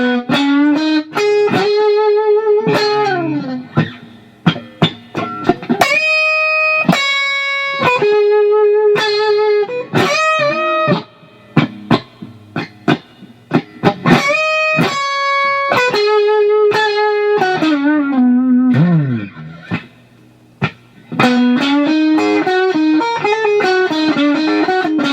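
Slow blues solo on electric guitar with a driven, distorted tone: sustained bent notes, vibrato and quick phrase runs alone, loud and close, with short pauses between phrases.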